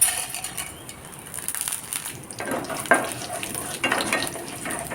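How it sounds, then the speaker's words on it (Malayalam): Crackling and popping of dried red chillies and urad dal frying in hot oil, with occasional stirring scrapes, fairly close. "നമ്മൾ വറ്റൽമുളകും ഉഴുന്നുപരിപ്പും കൂടി നല്ലവണ്ണം ഒന്ന് മൂപ്പിച്ചു"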